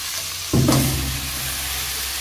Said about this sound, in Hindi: लाल मटाची आता भाजी टाकून घेऊया